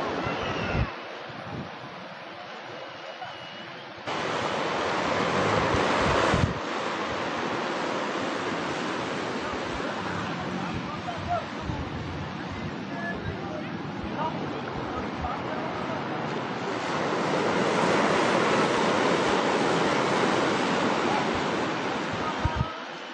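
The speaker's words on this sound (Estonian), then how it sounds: "Surfimehed ootavad lainet." Ocean surf breaking on a beach where surfers wait for waves, a steady broad roar with wind noise throughout and swells in loudness.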